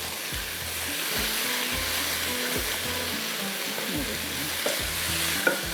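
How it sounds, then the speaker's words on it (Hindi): Vegetables and spice paste fry in a little oil in a pan, a steady close sizzle broken by repeated scraping stirs of a spoon against the metal, with no talking. "सब्जियाँ हल्की सी फ्राई हुई थोड़े से ऑयल के अंदर"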